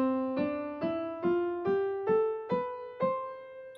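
Eight single notes climb step by step in an ascending major scale, evenly spaced and played on a keyboard-like instrument with no voices.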